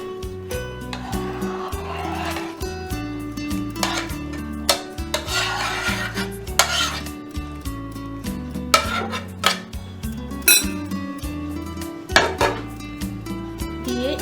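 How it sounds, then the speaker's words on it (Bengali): Afghani cheese chicken is tipped into a pot with ghee over hot charcoal, giving a steady run of close metallic scrapes, clinks and wet stirring knocks over continuous background music. "চিকেনটা এর মধ্যে ঢেলে দিচ্ছি"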